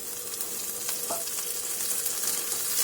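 Butter frying in a pan while cream is cooked, a loud, close, continuous hiss and crackle of sizzling fat with a brief faint clink partway through.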